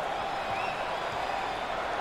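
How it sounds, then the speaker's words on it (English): A packed arena crowd roars at a college basketball game between Oregon State and Arizona State in the Pac-12 Tournament, a loud, constant wash of cheering and applause with a faint voice mixed in. "This crowd is unbelievable tonight"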